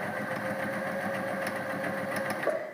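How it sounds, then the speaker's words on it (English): A sewing machine set for straight stitch runs steadily through fabric, giving a continuous close, even mechanical hum and rapid stitching patter with no talking over it. "I clamp back down and I begin sewing again."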